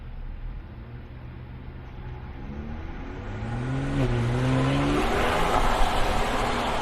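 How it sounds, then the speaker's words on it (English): A car with a dual-clutch transmission pulls away from a standstill, its engine note rising in pitch as it accelerates, dipping briefly at a shift, then building into a louder, rougher roar. "I have to dig into the throttle a little bit to get the car to wake up"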